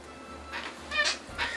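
A pet cat meows indoors, three short, fairly close cries spaced about half a second apart over quiet background hum.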